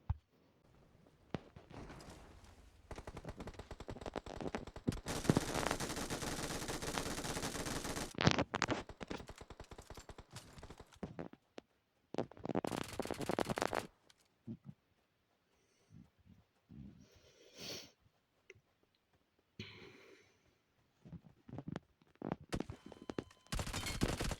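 Gunfire in the mobile battle game PUBG Mobile during a desert mission, with loud bursts of rapid automatic shots separated by short gaps and quieter stretches of scattered single shots.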